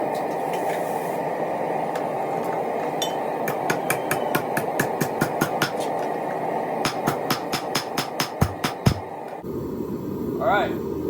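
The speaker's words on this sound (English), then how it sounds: "when I drop it in the Pritchel hole and start hammering the foot to be flush" Hot steel holdfast foot being hammered flush in the pritchel hole of an anvil, a steady run of sharp, ringing metallic blows in regular rhythm, close and loud over a forge's background hum, ending in a couple of heavier strikes.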